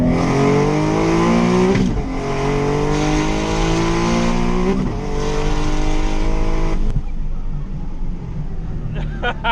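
A 600 HP twin-turbo Nissan 370Z pulls hard on the street, engine note climbing through gear changes with loud revving and brief shift breaks, then lifting off and fading to a quieter rumble near the end.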